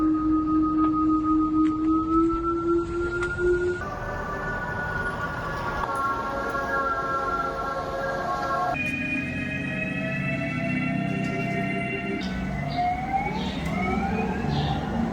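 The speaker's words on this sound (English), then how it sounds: "most EVs go for this angelic sounds or harmonic sounds or this humming sounds, beeping sounds like whoo." A sequence of synthetic electric vehicle warning hums and warbling electronic tones, each shifting pitch in distinct steps, steady and fairly loud with no talking.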